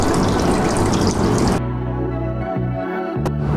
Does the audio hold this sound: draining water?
yes